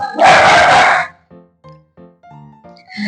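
Dogs at home bark loudly and close by in one dense, harsh burst, followed by several shorter, quieter yips and barks in an uneven rhythm.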